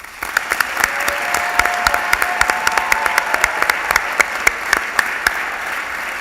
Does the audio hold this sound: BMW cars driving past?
no